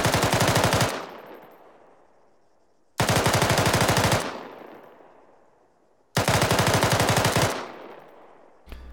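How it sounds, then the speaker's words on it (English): Machine gun, a SAW, firing at cyclic rate in three long rapid bursts about every three seconds, very loud and close, with echoing tails fading between bursts. "So a cyclic rate of fire would sound something like this."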